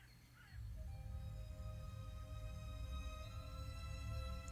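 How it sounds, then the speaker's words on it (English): A crow caws a few times outdoors on a fall morning, faint and distant, over a low steady breeze-like rumble, with a couple of brief chirps early on. "Birds chirping outside."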